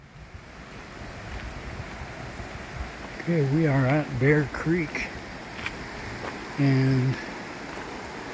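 Steady rushing flow of Bear Creek, a wilderness mountain stream along the trail, a broad continuous wash close by while someone speaks briefly over it.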